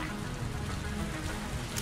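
Steady rain in the Mass Effect 3 multiplayer game, a dense, even patter that holds at a low level throughout with no talk over it.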